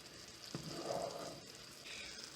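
Sugar water boiling and foaming in a pot on the stove for fondant, a steady close hiss and sizzle of bubbling with a brief soft stir partway through.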